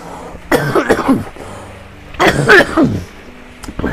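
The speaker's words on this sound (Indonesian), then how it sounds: "Sorry guys, batuk ya." Two harsh coughs from a nearby voice, one around the first half-second and another a couple of seconds later, with a brief breath at the end.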